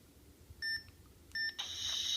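Two short electronic beeps from a Han Solo DL-44 blaster prop, high and clean, then a bright sustained electronic tone swelling at the end over a faint background.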